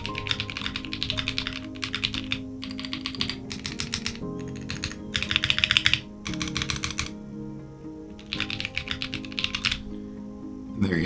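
Akko V3 Cream Blue tactile switches clack under steady typing on a keyboard, bursts of rapid keystrokes separated by short pauses, crisp and close, over faint background music with no talking.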